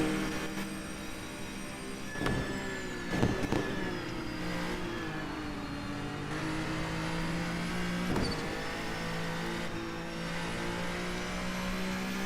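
A hypercar-class race car in the video game Project Trackday drives past with a steady engine drone, revving and shifting pitch as it accelerates, with a few sharp transient bursts along the way.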